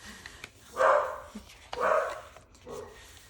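A dog barks twice in loud, close bursts, followed by a softer yip, indoors during a paper junk journal flip-through, with faint rustling between barks.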